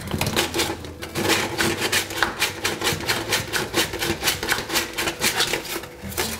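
Copper pipe end being scrubbed with abrasive mesh or sandpaper while fitting a bathroom vanity P-trap: fast, steady rasping strokes repeat in an even rhythm, close and clear, with no talking.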